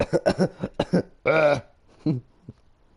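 A voice imitates a dying character's cough for Minion from Megamind: a quick burst of rough, hacking coughs, then a longer strained wheeze and a few fading, weaker coughs, close and alone.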